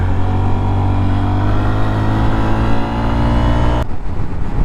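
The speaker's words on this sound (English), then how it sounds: "I just try to go through the gearbox with a quick shifter." A new motorcycle, fitted with a quick shifter, pulls hard through its gears, a loud, steady engine roar rising and stepping up before cutting off abruptly near the end.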